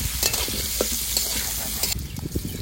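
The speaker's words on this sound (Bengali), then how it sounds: "আলুটা হালকা ভেজে নিয়েছে" Potato pieces sizzle steadily in hot oil with salt and turmeric over moderate heat, with a spatula scraping and stirring through the pan close up.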